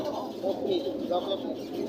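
A chocolate almond mukhi fancy pigeon at a Sakhipur market coos softly and steadily at close range, a few low rolling calls over faint background murmur.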